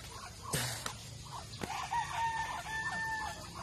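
Chickens cluck softly nearby while a rooster crows once, with a couple of sharp knocks and faint rural farmyard background.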